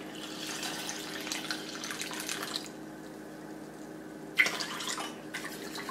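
Water poured from a cup into rava dosa batter of semolina in a home kitchen, a steady close trickling and splashing that stops midway, then a brief clink and more pouring near the end.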